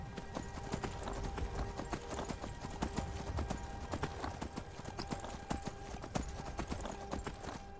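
Hooves of a horse being ridden in Skyrim, a rapid regular clip-clop close up and prominent throughout, over a low game ambience.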